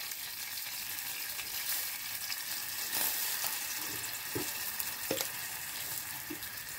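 Honey sauce melts and sizzles in a hot pan for chicken wings, a steady, dense frying hiss with a few faint clinks of a utensil. It is close and continuous, with no talking.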